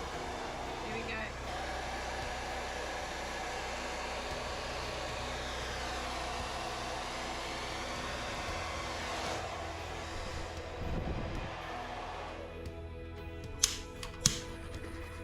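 Air blown steadily over acrylic paint in a Dutch pour gives a continuous broadband whoosh lasting most of the passage. Toward the end it eases off, and a couple of sharp clicks follow.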